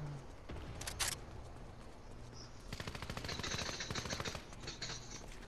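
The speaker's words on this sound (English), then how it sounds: "There's people already in zone firing." Rapid automatic gunfire in the battle royale game Fortnite: a few sharp shots early, then a dense, fast rattling burst that keeps going, moderately loud, with barely any talk.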